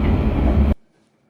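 Inside a carriage of the Mainlander passenger train while travelling, a loud steady rumbling roar that cuts off abruptly to near silence.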